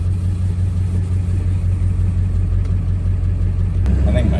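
A 7.3 Powerstroke diesel engine idling after an injector install, a loud, steady low rumble with an even throbbing that runs without pause throughout, heard close up.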